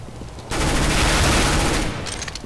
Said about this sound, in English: Ooh, P90.